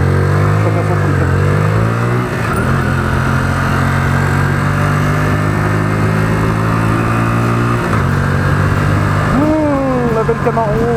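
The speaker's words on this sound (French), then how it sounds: "La belle Camaro." A Chevrolet Camaro's engine drones and revs nearby on a busy street, the pitch rising and falling through several swells, with people talking over it throughout.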